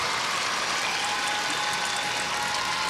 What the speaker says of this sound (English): And with the welcome from the crowd.